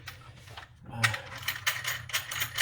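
Nut being tightened by hand on a wooden pipe stem bending jig, giving a run of small ratcheting, clicking turns that start after a quiet moment and repeat unevenly at close range.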